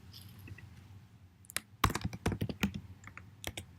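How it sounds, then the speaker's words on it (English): Typing on a computer keyboard while filling in a sign-up form: a quiet, close run of rapid key clicks in short bursts, no voice. "Type in your name,"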